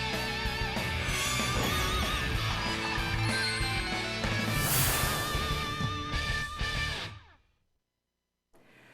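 A bright telephone ringtone plays as a live caller is connected on a real-estate phone-in radio show. The ringing melody runs loud for about seven seconds, then fades, and a faint sound follows.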